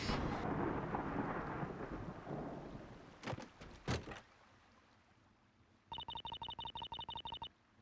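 Stormy weather in Professor Layton vs Phoenix Wright: a dense rain-and-thunder wash fades over several seconds with two brief sharp cracks, then a repeated ringing chime pattern takes over near the end, with no one talking.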